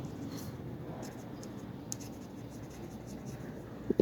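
A pen scratches on paper in a steady, soft, continuous rasp, close but quiet, with a faint click near the end.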